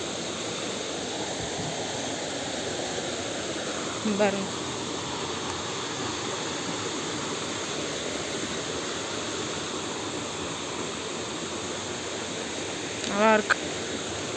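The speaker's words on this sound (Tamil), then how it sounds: "இது சும்மா இந்த தண்ணி கீழே அப்படியே வருது" Clear water flows down past stone steps along a stream in Thailand, a steady broadband rushing hiss that fills the whole stretch, with brief spoken remarks rising over it twice.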